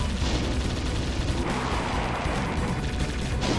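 Chaingunner enemy firing in the Doom mod Crusader, a dense, continuous crackle of rapid gunfire with low rumbling booms, loud and steady throughout with no talking.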